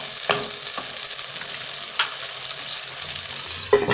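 Potatoes fry and sizzle with spices in a pan, a steady crackling hiss broken by a few clinks and scrapes as they are stirred.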